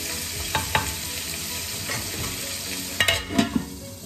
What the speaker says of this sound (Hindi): चिकन को अच्छी तरह से भूनना है।